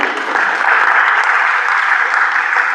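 Steady, close applause from an audience at a gardening talk on pollinators, with many hands clapping at an even level throughout the short stretch.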